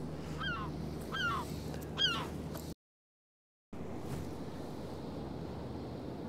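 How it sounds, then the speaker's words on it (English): Seagulls call over a seaside pier, with three short, sharp cries in quick succession up front against steady wind and surf noise, then a brief dropout and a continued breezy hush. "all I can hear is seagulls"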